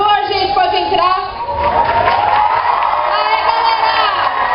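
A crowd of fans cheers, whoops and shouts as voice actors enter an anime convention event hall, a loud, continuous roar of excited voices with scattered high yells and some clapping.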